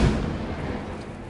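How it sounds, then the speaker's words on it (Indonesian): A deep, broad rumble of thunder during heavy night rain, loud and close at first and then rolling off into a sustained low roar. "suara petir menyambar diikuti listrik yang padam"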